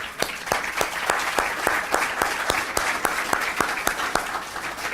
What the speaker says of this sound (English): We give a round of applause for this group that joined us.